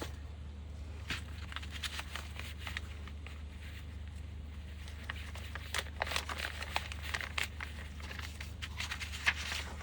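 Soft, irregular plastic bag crinkling and rustling as a template is slipped inside, close by, with small taps and handling noises over a steady low hum; no talking.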